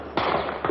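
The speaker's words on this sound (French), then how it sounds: "Les premiers coups de feu retentissent" Two sharp, loud bangs a fraction of a second apart, each a sudden broadband crack with a short tail, like gunfire close by.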